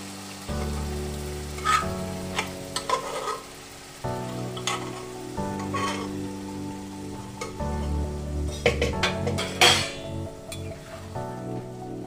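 Chickpea greens sizzle in a pan as a spoon stirs them, a steady crackling fry broken by repeated scraping strokes, fairly close and without talk.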